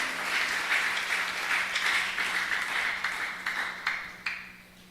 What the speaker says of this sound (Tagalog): Malakas na palakpak sa ating mahal Panginoon.